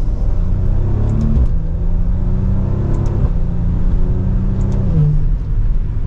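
A Maserati Levante GranSport SUV pulls hard from second gear, its engine note climbing in pitch, dropping briefly at each of several quick upshifts and rising again, a smooth, continuous drone heard from inside the cabin with no talk.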